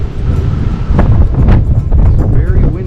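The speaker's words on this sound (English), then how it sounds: "It's very windy out here," Strong wind buffets the microphone on the rainy upper deck of the Majestic Princess cruise ship near the pool area, a loud continuous low roar with gusts under a talking voice.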